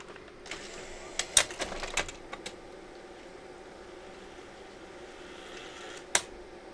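A Sony BVW65P Betacam SP professional tape deck ejecting a cassette, producing a quick cluster of mechanical clicks and clunks followed by a lone sharp click, close up against a quiet hum.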